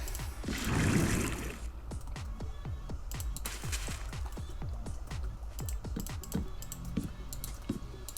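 A water bucket is emptied in Minecraft Bedrock Edition, giving a brief whooshing splash near the start, followed by a steady run of crisp keyboard and mouse clicks close by.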